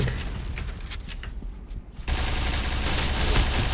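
Gunfire in the Point Blank online shooter: a burst of firing starts abruptly halfway through and continues loud and dense to the end, after scattered quieter shots.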